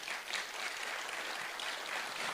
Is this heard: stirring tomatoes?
no